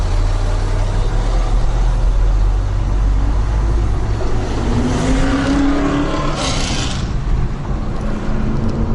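Mercedes E55 AMG engine on curvy mountain roads, a steady loud drone from inside the car with tire and road noise throughout and brief shifts in pitch as it pulls along.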